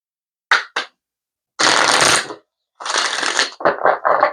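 A deck of lesson cards is shuffled in several separate riffles: two quick flicks, a longer rushing riffle, then a run of short bursts, close and crisp against silence.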